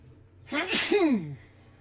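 A single sneeze from a person nearby during a game session, a sharp inhaled buildup followed by a loud explosive burst that trails off quickly, standing alone.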